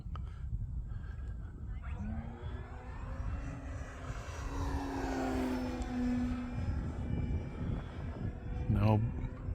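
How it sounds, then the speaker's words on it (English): An FMS Pitts RC biplane flying inverted on a sunny day, its electric motor droning and shifting pitch as it passes, with someone talking over the engine sound. "Flying it inverted like this is a little bit dangerous."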